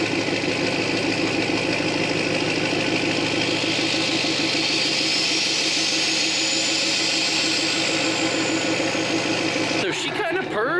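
A 2008 Ford F350 dually with a Powerstroke diesel engine and a new fuel system runs loudly and close by, holding a steady, rumbling idle with a rising whine that ends in a brief disturbance.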